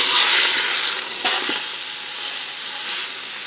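Pot roast sears in a Ninja Foodi right after being flipped: a steady bright sizzle with one sharp crackling burst from the meat hitting the hot surface, then a continuous hiss that slowly settles.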